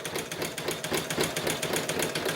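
A sewing machine stitches a seam with a loud, continuous mechanical chatter. The needle beats out a fast, even rhythm close to the microphone.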